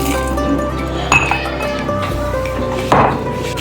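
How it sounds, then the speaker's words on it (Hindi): Whole spices such as black cardamom and cinnamon are tipped into a mixer grinder jar, giving a few sharp clinks and rattles against the jar over a steady background, with no talking. "अब हम इसको मिक्सी में डालते हैं।"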